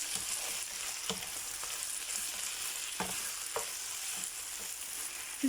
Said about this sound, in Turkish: patatesimi hala kavuruyorum